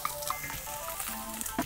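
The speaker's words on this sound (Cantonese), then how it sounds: "首先，我哋爆香咗啲蒜頭同乾葱先啦" Garlic and shallots sizzle in hot oil in a wok, a soft steady crackle and hiss with faint stirring clinks throughout.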